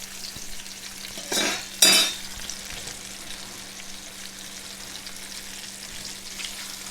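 Trout fillets frying in a pan of hot grease give a steady, soft sizzle throughout, with two brief louder crackling bursts near the start and no talking.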